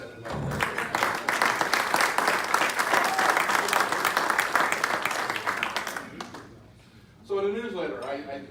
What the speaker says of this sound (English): I would like you all to give Mike a round of applause.